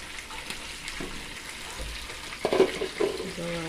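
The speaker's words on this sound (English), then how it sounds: "And we have some fish frying." Fish frying in a pan, a low steady sizzle with a few sharper crackles and pops partway through, close by.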